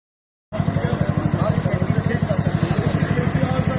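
After a half-second of silence, a motorcycle exhaust bursts in loud and close, a throbbing rapid pulse that stays steady and rumbling.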